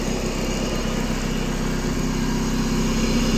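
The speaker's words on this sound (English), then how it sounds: "Tractor sounds good, nice and quiet, no bad noises" A GT6000 garden tractor engine idles steadily and fairly loudly, an even low hum and chug throughout with no other sounds or voices.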